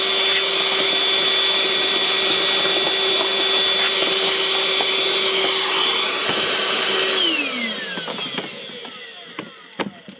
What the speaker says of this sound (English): another good buy is the Ryobi suitcase vacuum